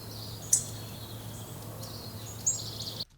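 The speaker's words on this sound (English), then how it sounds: "A little bit of birds chirping in the background there" Park ambience with birds chirping faintly in the distance, a couple of brief higher calls over a low steady hum, then cutting to silence near the end.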